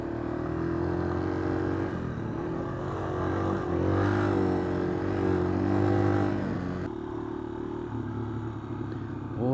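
Dual sport motorcycles, including a Suzuki DRZ400, ride dusty, easy trails in southwest Ohio, giving a steady engine drone with gentle rises and falls in revs, close and continuous.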